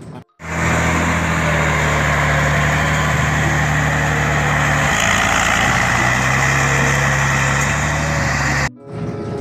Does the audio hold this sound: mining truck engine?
yes